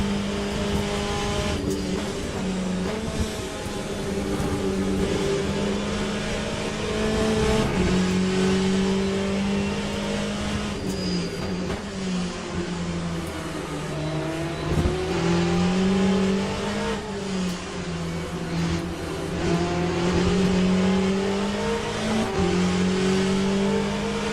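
A Porsche race car engine in the Le Mans Ultimate racing game roars steadily and up close, its pitch climbing and dipping through gear changes and throttle lifts, with brief tire squeal, and no voices heard.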